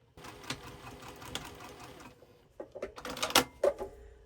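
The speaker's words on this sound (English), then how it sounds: "come in at an angle, and sew that opening together" A sewing machine stitches the opening of a small fat quarter fabric basket closed, a rapid mechanical run that stops, then some handling clunks and a short burst of stitching.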